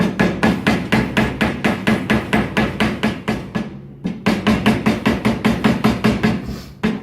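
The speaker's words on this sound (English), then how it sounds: "So I call this a magic hammer" A copper-and-rawhide mallet striking repeatedly during a CV boot replacement on a car, a rapid, steady series of loud, close knocks with a brief pause midway.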